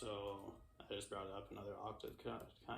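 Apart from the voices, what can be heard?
None of the usual background noises is heard.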